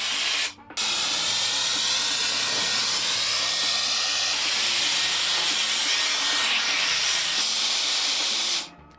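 Powerful portable air compressor inflator running for about eight seconds, a loud steady rushing hiss and roar close by, starting abruptly after a brief stutter and cutting off at the end.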